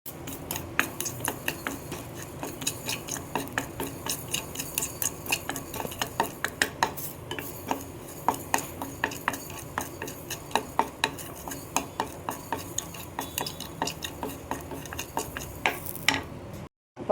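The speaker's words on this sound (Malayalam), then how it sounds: "ഇതൊന്ന് ചൂടാക്കി എടുക്കണം, ഒന്ന് വറുത്തെടുക്കുക" Mustard seeds and fenugreek dry-roast in a pan, a steady run of sharp clicks and scraping stirs from a spoon against the metal, close and continuous with no talk.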